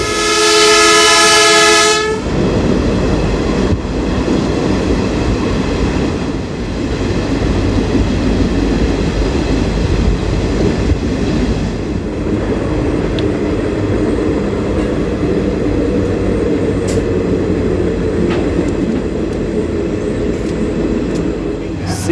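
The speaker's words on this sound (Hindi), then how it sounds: "ये है गुड्स ट्रेन जो LHB रैक्स में आती है" A loud goods train made up of LHB rakes rolls past alongside, a steady heavy rumble and clatter of wheels that opens with a sustained horn blast and keeps running close by throughout.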